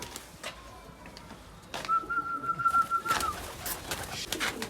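Pet birds in a home aviary with newly hatched chicks, one giving a clear, sustained whistling coo, close and moderately loud, among soft rustles.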